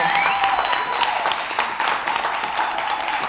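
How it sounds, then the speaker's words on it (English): Audience applause fills a comedy event as the crowd welcomes a comedian, a dense steady patter of many hands clapping at close range throughout, with faint crowd murmur mixed in. "give a round of applause for Nolan"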